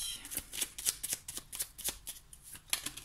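Cards are handled and drawn from a deck, a quick run of crisp flicking snaps in a fast irregular rhythm, close and quiet with no talk.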